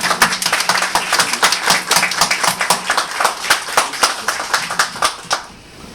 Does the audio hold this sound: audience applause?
yes